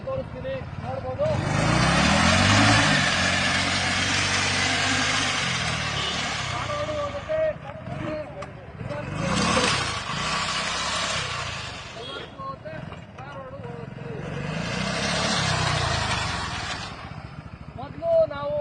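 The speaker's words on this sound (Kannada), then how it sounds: "ಈ ಗಾಡಿ ನಿಮಗೆ ನಾವು ಒಂದ್ಸತಿ ಓಡಿಸಿ ತೋರಿಸ್ತೀನಿ, ನೋಡ್ಬೋದು." A chainless agricultural trolley vehicle's engine runs, loud and steady, rising and falling as it is driven, with someone talking over it.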